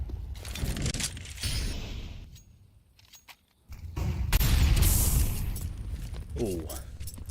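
A grenade goes off in an esports match of Galaxy Battle, a loud broadband blast that swells and holds for about a second amid heavy in-game gunfire and chaotic noise, with casters talking excitedly over the action.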